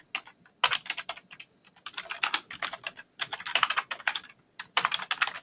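Quick bursts of typing on a computer keyboard, close and crisp, with rapid clusters of keystrokes broken by short pauses.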